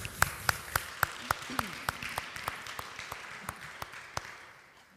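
Applause during a church service: a run of sharp, evenly spaced claps in a steady rhythm, fairly soft and slowly fading over a low room murmur.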